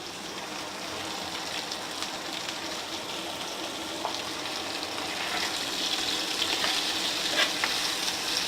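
Chopped teasel gourd sautés in hot oil with salt and turmeric, a dense, steady sizzle like light rain with occasional stirring scrapes, close and continuous with no talking.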